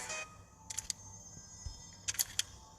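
A camera shutter clicks several times while a photo is taken in a video game, with two quick pairs of crisp snaps separated by a pause, over quiet background hum and no talk.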